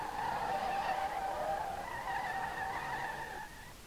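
A Toyota MR2 drifts in the racing game SLRR, its tires skidding and squealing in a sustained, wavering screech that holds for a few seconds before easing off.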